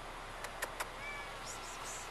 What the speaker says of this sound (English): Got a nice manly meow there.